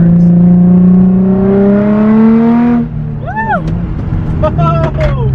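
Nissan 350Z pulls hard with a loud rising engine note that climbs steadily through the rev range and then drops off on a shift. Excited voices are heard over the engine afterward.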